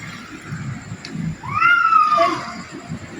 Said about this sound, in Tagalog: Pusa, siguro yun.